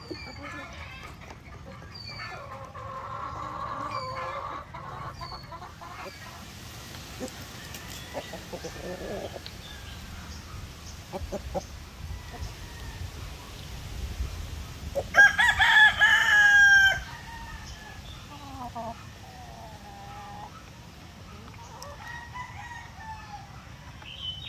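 Aging laying hens on a farm cluck softly and steadily, and a rooster crows loudly once near the middle, while someone talks throughout.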